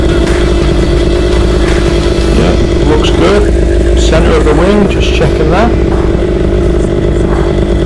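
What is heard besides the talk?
paramotor engine running before takeoff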